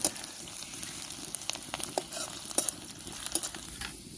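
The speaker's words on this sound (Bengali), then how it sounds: "পেঁয়াজগুলোকে লাল লাল করে একটু ভেজে নেব।" Chopped onions frying in a pan until browned, a steady soft sizzle broken by scraping stirs and light clinks of a spatula, close and fairly quiet.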